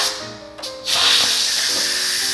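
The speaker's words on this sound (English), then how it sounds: "all the steam has been released and the little valve has gone down" An Instant Pot pressure cooker vents steam through its valve in a loud, steady hiss that surges up after a brief sputter and keeps rushing on close by.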